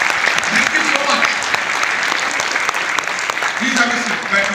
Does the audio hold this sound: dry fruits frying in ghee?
no